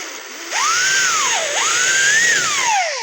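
High-pitched whine of a drill fitted with a hole saw that rises as it spins up, dips under load, then climbs again while cutting, loud and close.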